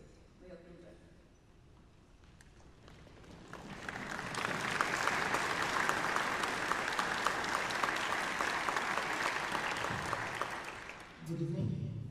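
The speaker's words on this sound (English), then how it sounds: "I would like to ask a big round of applause again for our three folks." A concert hall audience at a Furman Symphony Orchestra concerto concert breaks into applause that swells over a few seconds and stays full and sustained, with voices talking before it builds and again as it ends.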